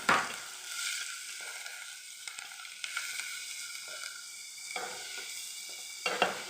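Ingredients for a drumstick milk curry fry in a pan, giving a soft, steady sizzle broken by occasional scraping stirs and light clinks of a utensil, fairly quiet and close with no talking.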